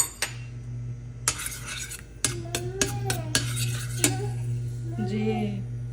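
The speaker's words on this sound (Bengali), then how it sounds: "এই যে ইনারার জন্য খাওয়া গরম করতেছি মা।" A spoon stirs khichuri in a pot as it is reheated, giving scraping clinks and knocks of metal on the pot over a steady low hum, with a few soft sizzles and some background voice.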